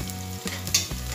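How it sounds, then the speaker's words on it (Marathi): Onions frying until golden brown in a pressure cooker, a steady loud sizzle with a low hum beneath and a few brief scraping stirs. "कांदे आपल्याला छान गोल्डन ब्राऊन करून घ्यायचे आहे"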